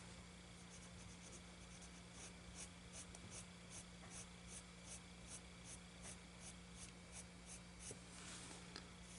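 Colored pencil rubbing across paper in a steady series of soft, scratchy, feathered strokes. Quiet and close, with no speech over it.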